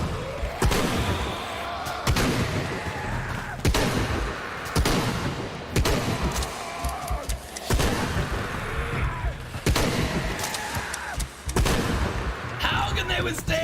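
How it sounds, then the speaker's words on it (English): Shotgun blasts in the Shadow of the Tomb Raider video game, a series of loud, sharp booms at irregular intervals roughly a second or two apart, mixed with a busy game soundtrack and a talking voice. "Shotgun time"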